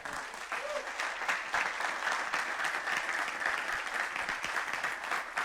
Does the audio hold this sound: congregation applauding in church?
yes